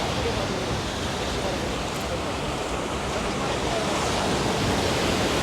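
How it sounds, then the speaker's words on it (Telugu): Sea waves breaking on Baga beach in Goa at night, a steady, loud broadband roar of surf that continues without pause. "బాగా బీచ్ అలలు"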